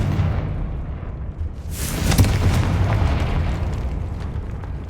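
A Confringo blasting spell explodes in Hogwarts Legacy, a loud boom bursting in after a quiet rumbling start, then a sustained crackling roar that slowly fades.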